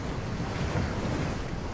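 Water in the VR game The Under Presents, heard as a steady, full wash of surf-like rushing noise. It holds constant and fairly loud throughout, with no voices.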